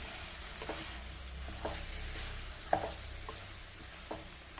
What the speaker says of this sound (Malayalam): സോയ ഇട്ട് നമുക്ക് നന്നായി ഇളക്കി യോജിപ്പിച്ചിട്ട് ആവശ്യത്തിന് ഉപ്പിട്ട് കൊടുക്കാം.